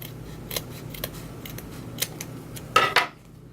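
Scissors make a few soft, close snips, then one louder crisp cut near the end as the ends of ribbon for a Halloween wreath are trimmed at a diagonal.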